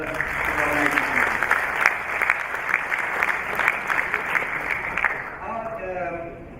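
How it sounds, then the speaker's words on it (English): A conference audience at a clinics accelerator event gives a sustained round of applause, with dense clapping filling the room before a voice resumes at the end. "I think a round of applause for the organizing committee"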